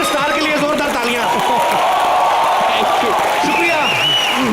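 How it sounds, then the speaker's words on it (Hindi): A studio audience at a comedy talk show claps and cheers for a guest star, with steady applause running beneath a voice speaking over it throughout. "एक बार हमारे मल्टी टैलेंटेड स्टार के लिए जोरदार तालियां"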